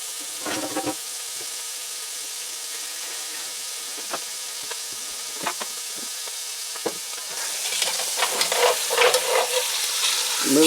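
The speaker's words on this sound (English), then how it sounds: "now we're just going to sear this roast" A roast sears in butter and oil, a faint, steady sizzle with sporadic spatters that swell louder and busier toward the end as the meat is moved.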